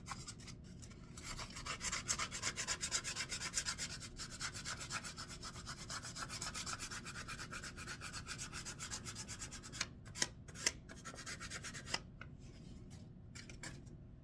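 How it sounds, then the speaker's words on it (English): Sandpaper rubs back and forth over an epoxy glitter resin pen in steady, close scratchy strokes, followed near the end by a few sharp taps and clicks in an otherwise quiet room. "I guess I could take a piece of sandpaper to it. Let's see what that does."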